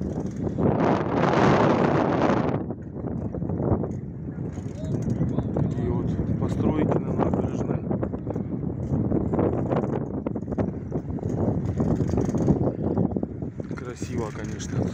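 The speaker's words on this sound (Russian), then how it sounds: "Ветер, правда, сильный." Strong wind buffets the microphone during a bike ride through Bremen, Germany, a loud rushing roar that gusts hardest early on and continues throughout, with someone talking.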